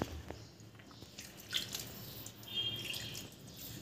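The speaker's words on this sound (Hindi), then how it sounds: "इसमें थोड़ा थोड़ा पानी डाल के," Water is added little by little to flour while kneading a stiff dough for crispy namak pare, giving faint close drips and soft squishy sounds against a quiet background.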